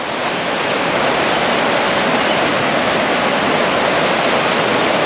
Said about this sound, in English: You know, the rushing water.